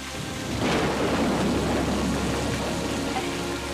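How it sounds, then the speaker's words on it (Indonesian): Heavy rain pours down steadily as a dense, loud, continuous wash with a low rumble underneath, swelling slightly after the first half-second and holding without pause. "Hujan kayak gini."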